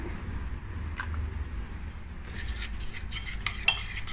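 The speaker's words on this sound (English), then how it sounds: "Mix it down. This is just for a marinade." Raw prawns are stirred in a marinade of fish spice and olive oil, heard as close, wet squelching and clinks of a utensil against a bowl, growing busier toward the end.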